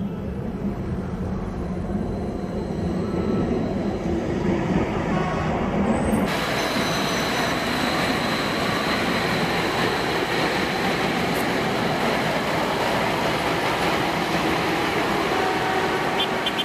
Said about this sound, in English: the light rail that they just launched in Ethiopia